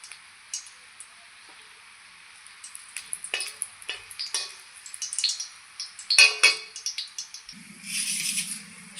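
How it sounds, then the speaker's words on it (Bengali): Dried red chillies frying in oil in a wok, a quiet crackling sizzle with scattered pops and the scrape of stirring, growing busier toward the end, close and with no talk. "শুকনো লঙ্কা ভেজে নেওয়া হয়ে গেছে"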